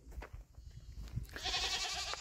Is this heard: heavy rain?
no